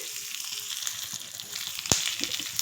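Okra fries in oil in a pan with a steady, close crackling sizzle, with a brief louder clatter near the end.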